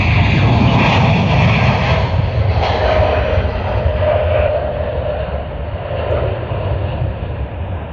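A Juneyao Air airliner at Sydney Airport, a loud, continuous engine roar that starts strong and slowly eases as the aircraft moves away.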